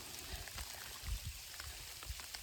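Hail pelting a hiker on a trail, a faint scatter of small irregular ticks and patters over a soft steady hiss, with a few louder low thumps close by.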